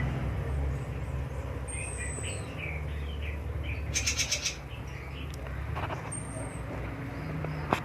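A sick white-rumped shama, or murai batu, gives faint, brief chirps and thin whistles over a steady low background hum, sparse and quiet rather than a full song.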